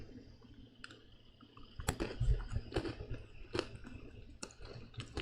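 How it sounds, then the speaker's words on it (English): Someone crunching and chewing dark chocolate-covered pretzels close up, giving a run of sharp, irregular crisp crackles and clicks with softer chewing between them, with no talking. "if you hear some crunching and gnomming, I'm eating some dark chocolate-covered pretzels"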